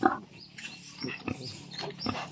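Pig grunting on a farm, a series of short low grunts and snorts in an irregular rhythm, fairly close and moderately loud with no speech.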